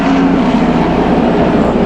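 A rescue ambulance helicopter flies overhead, its engine and rotor making a loud, steady drone that fills the whole stretch without fading.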